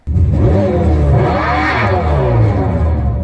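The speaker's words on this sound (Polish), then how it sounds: "To elektryczny układ napędowy, który zasila nową generację Dodge'a Chargera Daytona." A Dodge Charger Daytona's electric drivetrain hums and growls loudly up close, starting abruptly and swelling into a rising whine before easing and climbing again, alone without talk.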